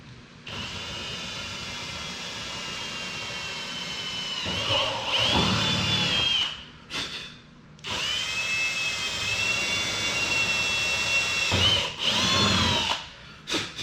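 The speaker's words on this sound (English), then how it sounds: "Let's go get the drill bit out" A power drill whirs in long sustained bursts, stopping briefly between runs, its high whine shifting pitch as it bites into material.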